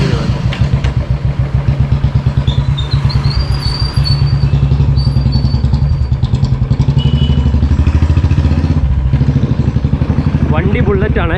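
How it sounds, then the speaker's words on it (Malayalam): A Royal Enfield Bullet motorcycle rides along in Kavaratti, Lakshadweep, its steady single-cylinder thump loud and close throughout, with people talking over the engine. "വണ്ടി ബുള്ളറ്റാണ്. ബുള്ളറ്റിൽ പറക്കുന്ന ആൾക്കാരാണ്."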